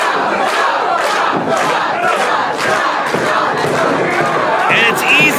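A wrestling crowd roars and shouts continuously, a dense wash of cheering voices with rhythmic chant-like surges throughout, loud and close.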